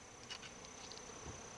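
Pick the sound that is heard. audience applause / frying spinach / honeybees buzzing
honeybees buzzing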